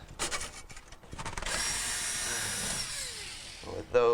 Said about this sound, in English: we have two Phillips screws that hold this heater in place. So we are going to remove those